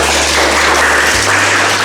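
Students in a classroom applaud after a group presentation, a loud, dense wash of clapping close by over a steady low hum that cuts out partway through.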